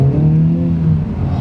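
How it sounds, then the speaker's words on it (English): Honda Civic Type R Sport Line engine held at steady revs from inside the cabin, a loud sustained drone with a slight pitch rise, no talking. "so it meant that I could rev out for a lot longer"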